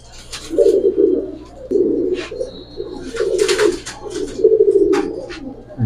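A silver panki Giribaz pigeon coos up close while being handled, giving about five throaty, rolling coo phrases in a steady rhythm with short gaps between them.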